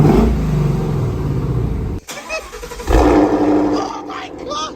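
A 2016 Ford Mustang 5.0 with a Corsa exhaust roars and revs nearby, dipping for a moment before a second loud rev, while people talk excitedly over it.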